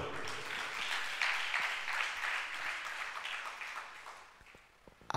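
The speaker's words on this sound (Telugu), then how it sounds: "చప్పట్లు కొట్టు" A church congregation claps together in a steady burst of applause during a Holy Communion service that gradually fades out toward the end.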